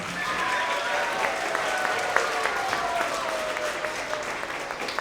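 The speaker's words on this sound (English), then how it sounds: "Let's give her a round of applause." A school award assembly audience applauds their faculty advisor and quiz team coach, dense steady clapping filling the room for several seconds.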